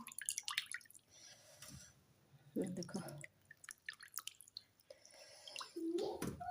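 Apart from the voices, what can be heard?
squeezing water out of cabbage by hand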